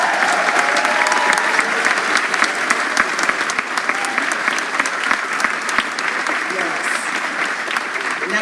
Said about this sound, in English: Parents, give your kids a round of applause